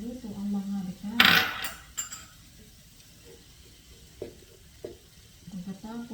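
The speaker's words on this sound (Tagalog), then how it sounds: "Haluin natin hanggang maluto ang mga ricado." Tomato paste and spices stirred in a hot pan for a fish curry, a brief sizzle and scrape of the spoon against the pan with a few light clinks, while someone talks over it.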